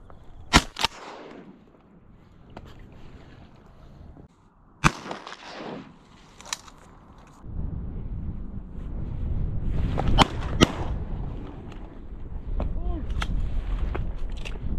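Duck hunting with a Verney Carron Veloce 12 gauge shotgun: two sharp, loud shots near the start and another around five seconds, more cracks later over wind and outdoor rumble, with brief voices.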